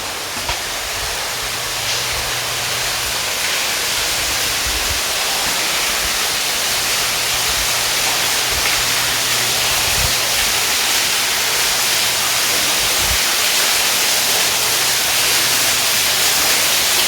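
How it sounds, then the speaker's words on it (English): Silver Falls, a 210-foot two-tiered underground waterfall deep in Tuckaleechee Caverns, roars as a steady, dense wash of falling water that fills the cave without pause, with a faint low hum running beneath it. "right around the corner is Silver Falls, a 210-foot, two-tiered waterfall."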